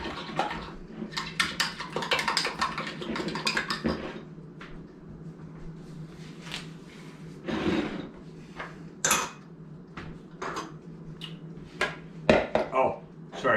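Sugar is stirred into a homemade sauce with milk in a bowl, giving irregular close clinks and scraping of utensil on dishware with some watery sloshing, interrupted by people talking throughout.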